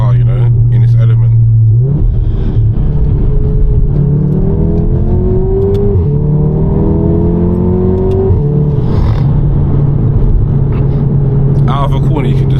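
A Volkswagen Golf R engine, loud and close from the cabin, its pitch climbing steadily through a gear as it pulls hard out of a corner, then dropping at a shift before building again.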